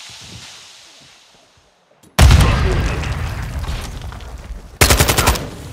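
A grenade detonates in Call of Duty: Modern Warfare II after a short quiet stretch: a loud, sudden blast with a long rumbling tail, then a second sharp burst of crackling gunfire-like pops near the end.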